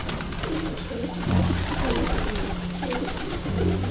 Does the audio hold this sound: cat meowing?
no